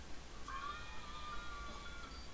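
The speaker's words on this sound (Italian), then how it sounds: "Perché litigano cane e gatto?" A cat in The Sims 4 video game lets out a drawn-out, wavering yowl as it squabbles with a dog, fairly faint over a low background hum.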